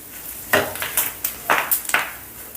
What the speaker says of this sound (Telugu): ఇప్పుడు కొద్ది చిటికెడు ఇంగువ కూడా వేసుకుందాం అలాగే ఒక రెండు రెబ్బలు కరివేపాకు